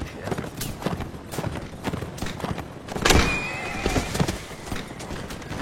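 Horses neigh and whinny in a video game, with clip-clopping hooves and busy game noise around them; a sharp loud whinny rises partway through, and the sounds stay close and fairly steady.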